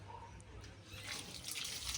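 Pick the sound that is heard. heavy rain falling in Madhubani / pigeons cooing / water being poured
water being poured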